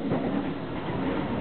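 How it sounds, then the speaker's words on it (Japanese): Subway train ride in Japan, a steady low rumble of the moving carriage filling the space evenly, with no talk. "We're on a subway in Japan."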